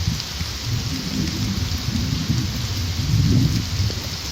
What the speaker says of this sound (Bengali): বাইরে ঝড় ও বৃষ্টিপাত বজ্র গর্জন করে চলেছে